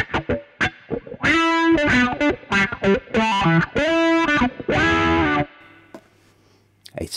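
Electric guitar played through a wah-wah pedal into a Marshall amplifier: a quick run of distorted, swept notes and chords, then a held note that fades to a low hum.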